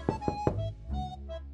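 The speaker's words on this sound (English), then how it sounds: "I'ma just go knock on the door and ask nicely." Three quick, firm knocks land on a house's front door by the porch, spaced evenly in about half a second, followed by a low hollow resonance and faint background tones.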